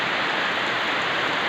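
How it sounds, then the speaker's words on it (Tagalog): Heavy rain pouring down outside, a constant thick rushing hiss that stays even from start to finish, close and loud. "Silong tayo dahil malakas ang ulan mga idol."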